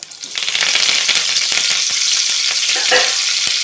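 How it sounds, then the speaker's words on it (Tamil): Mustard seeds and curry leaves tempering in hot oil for Tirunelveli sodhi kuzhambu, a loud dense sizzle that swells up quickly and holds with crackling pops throughout. "இப்போ இதில் 2 கடுகு தாச்சிக்கிறோம். ஆயில் விட்டுருக்கோமா?"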